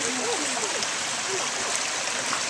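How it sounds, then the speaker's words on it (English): A clear running stream along a walking trail in the Peloponnese near Mystra rushes steadily, a constant broad wash of water with faint birdsong over it, close and unbroken. "Here's a running stream along the trail."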